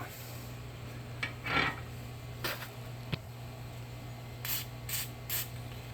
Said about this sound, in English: sometimes I'll put white lithium on this just to help get leverage